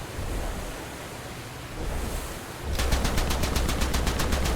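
British aircraft machine guns fire in the War Thunder video game, a dense rushing roar that turns into a rapid, even rattle of shots in the second half.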